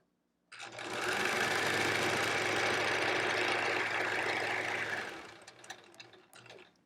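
A sewing machine stitches quilt fabric at full pedal, running as a fast, steady mechanical whir for about four and a half seconds. The sound stops abruptly, leaving faint clicks and handling noises behind.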